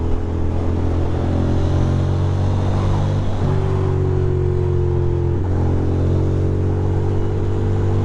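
A motorcycle rides along a road with a steady, loud engine drone and wind rush that persists throughout. The engine pitch shifts slightly at a couple of points, as with gear changes.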